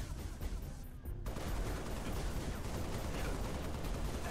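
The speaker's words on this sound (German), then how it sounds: "Die automatische Kanone, die sehr stark ist." Rapid automatic cannon fire in the video game Halo: Reach pounds continuously in a dense, heavy barrage, loud and close, with a brief drop in the roar near the start.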